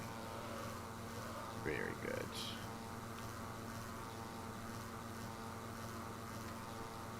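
A propeller plane in Microsoft Flight Simulator flying with a steady, droning engine hum that holds evenly throughout, with a brief spoken remark near the start.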